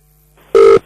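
A telephone being dialed gives a single short, loud electronic tone after a brief low hum, clean and close with no voices.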